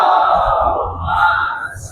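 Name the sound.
crowd chanting salawat at Eid e Ghadeer gathering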